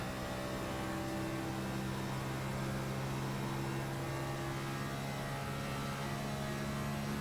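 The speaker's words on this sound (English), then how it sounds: "I like the deep sound of the car, although there is this high-pitched squeal." A NASCAR Next Gen race car engine in the iRacing sim at Darlington drones steadily with a deep, constant tone and a sustained high-pitched whine, heard alone and evenly throughout.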